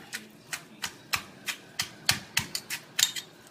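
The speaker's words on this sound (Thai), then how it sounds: "พี่พิมพ์ก็จะใช้อีตัวแตงกวาค่ะ ลงไปตำนะคะมะเขือเทศด้วยผสมกันไปเนาะ" Cucumber and tomato being pounded in a mortar for Thai som tam, a steady series of about a dozen sharp knocking thuds, close and fairly loud, with no talk.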